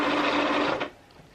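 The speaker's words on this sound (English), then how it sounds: "I have just sewn the 2 sleeve ends together" A sewing machine stitches two coat sleeve ends together in one close, loud, steady whirring run of under a second, then cuts off into quiet.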